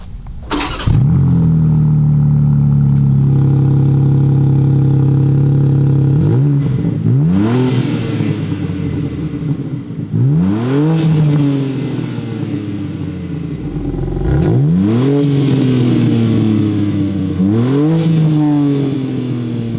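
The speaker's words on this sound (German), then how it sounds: "Kannst du mal das Kfz starten?" A BMW M3 Competition Touring starts with a sharp crank and settles into a deep idle, then gives a series of loud, close throttle blips that rise and fall about every few seconds.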